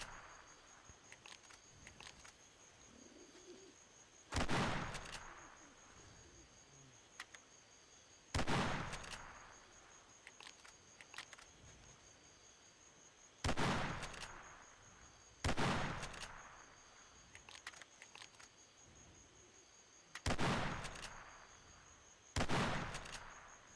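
Six sharp, loud rifle shots ring out at irregular intervals while hunting on foot in Cabela's African Safari, each crack followed by a short fading tail, with quiet ambient game sound between them.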